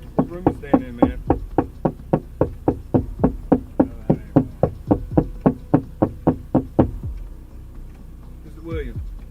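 Someone knocking on a door in a steady, insistent rhythm, roughly twenty-five firm evenly spaced raps over several seconds, close and loud, then stopping as a voice briefly speaks.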